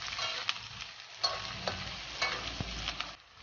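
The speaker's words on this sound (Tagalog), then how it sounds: "lutuin lang natin maigi yung ating bawang, sibuyas at luya" Garlic, onion and ginger sauté in a pan for frog adobo, a steady close sizzle broken by the scrape and clack of a stirring utensil, with no talking.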